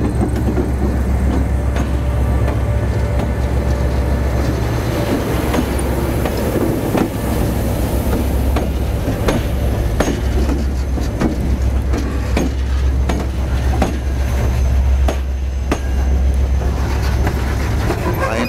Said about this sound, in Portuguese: Aí o trem nos brindando aí com a passagem aqui pela Gare